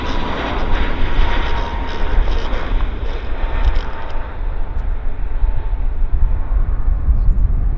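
A British Airways airliner at Vancouver Airport gives off a distant, wind-buffeted jet roar, a fairly steady broad rumble with gusty fluctuations.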